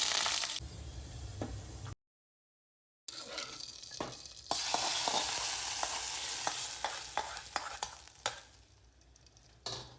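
Curry leaves, fenugreek seeds and a dried red chilli, added after mustard seeds, sizzle and crackle in hot oil for an Onam dish, loud and close, with sharp popping bursts broken by a brief silent gap.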